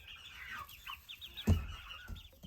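A chick kept under a heat lamp clucks and peeps in short, high chirps, fairly close and moderately quiet, with a few soft thumps alongside.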